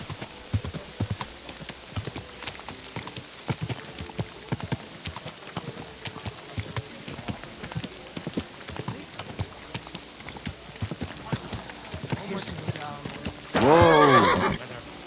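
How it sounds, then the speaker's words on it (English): A horse in a video game clip-clops along at a steady walk, hooves close and even, then gives a loud, drawn-out neigh near the end. "Easy, good horse."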